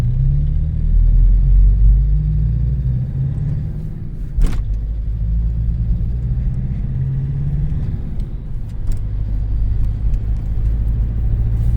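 Toyota Land Cruiser Prado J90 driving over bumpy road with its dashboard vibrating, a steady low road and engine rumble from inside the cabin with a sharp knock from a bump midway and faint rattles.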